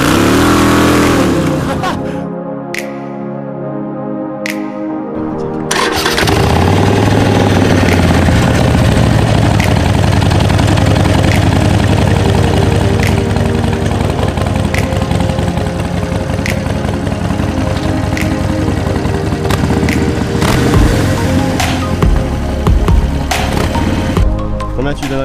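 A motorcycle doing a burnout, its engine revving hard in a loud, sustained, close roar that holds high for most of the stretch after a brief quieter start.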